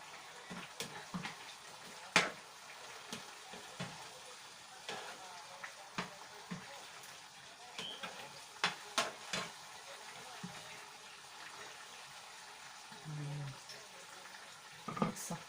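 Eggplant cooking in a pan with pork and vegetables, a quiet steady sizzle under scattered scrapes and clinks of stirring, with a short burst of running water partway through.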